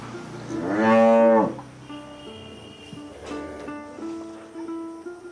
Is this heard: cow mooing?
yes